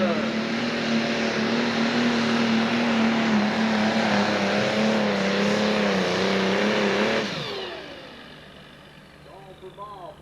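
A Pro Stock pulling tractor roars at a 10,000 lb class tractor pull in Connersville, Indiana, in 1995. The engine holds a loud, steady, droning howl, then drops away abruptly and fades to a faint distant rumble.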